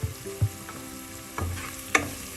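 Curry ingredients for a Kerala king fish curry with kudampuli being sautéed in a pan, with a few soft stirring knocks and scrapes over a low, steady background sizzle.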